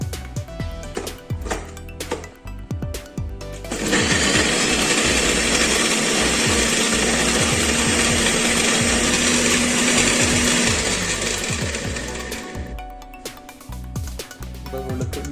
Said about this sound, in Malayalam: നല്ലതുപോലെ ഒന്ന് പേസ്റ്റായിട്ട് മിക്സിയിലിട്ട് നമുക്ക് അരച്ചെടുക്കാം.